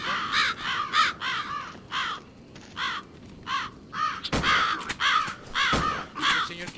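Crows caw repeatedly in the zombie video game Land of the Dead, a flock of harsh calls in quick bursts over a low rumbling background, with a couple of sharper thuds near the end.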